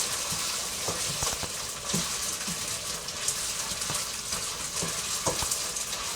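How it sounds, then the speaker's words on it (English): Precooked chicken browning in a generous amount of very hot oil for a Chinese-style chicken and rice dish, giving a continuous loud sizzle and hiss with scattered crackles and pops throughout. "You can hear the sizzling. There's a fair amount of very hot oil in there."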